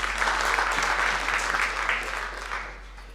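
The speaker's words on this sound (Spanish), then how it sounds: "Démosle un fuerte aplauso a nuestro Señor." Congregation applauding during a Spanish-language Sunday church service: steady, full clapping that fills the room, then eases off slightly toward the end.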